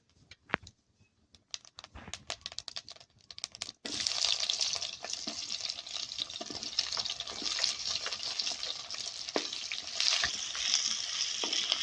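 Chopped onions hit hot mustard oil with cumin seeds and break into a continuous bright sizzle, following a few seconds of scattered clicks and handling noises; the frying stays close and fairly even to the end.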